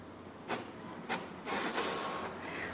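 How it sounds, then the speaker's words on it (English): An older printer churning out a copy with a continuous whirring feed noise and a few sharper clunks and sliding sweeps, heard up close with no voices. "Yeah, it's not the most up-to-date printer,"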